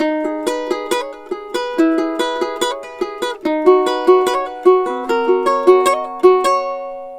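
A ukulele picks out a riff at a slow, steady pace, each plucked note ringing clearly on its own with no voices.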